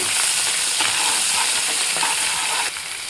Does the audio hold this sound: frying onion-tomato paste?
yes